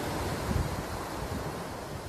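Sea surf washes steadily onto the shore near Primorsk, a continuous broadband rush with wind buffeting the microphone and no distinct breaks between waves.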